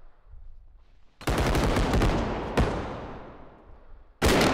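Loud shotgun blasts from a realistic first-person video game, each a sharp broadband boom with a long decaying tail, three shots spaced about a second and a half apart, heard alone without talk.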